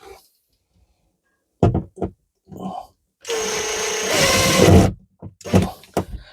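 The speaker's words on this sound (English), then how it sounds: "So let's put this screw in." Power driver running a screw into a wall, a whirring buzz lasting about two seconds and then rising in pitch, among short bumps and handling noises, close by.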